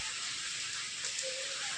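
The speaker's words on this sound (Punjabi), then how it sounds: "ਤੇਜ਼ ਛਾਟੇਦਾਰ ਮੋਟੀ ਕਣੀ ਦਾ ਮੀਂਹ ਪੈ ਰਿਹਾ ਹੈ" Heavy rain with big drops falls in Mansa district, a dense, even hiss of downpour that stays constant for a brief moment, fairly soft and without speech.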